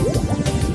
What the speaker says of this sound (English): you shoot these bubbles onto the center of the flower, match the colors, and those bubbles burst